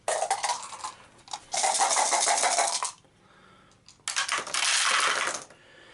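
A handful of seven dice rolled for an Eldritch Horror board game rattles and clatters in three loud bursts, with short quiet gaps between the rolls and no talking.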